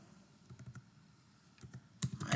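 Fingers type on a computer keyboard while entering an administrator login, giving short bursts of quiet key clicks separated by pauses, with a faster cluster near the end and no talk.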